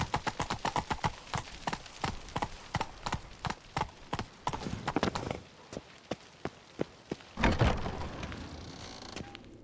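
Geralt's horse Roach galloping in The Witcher 3, steady rhythmic hoofbeats on hard ground that speed up, slow to a walk, then end with a heavier thump.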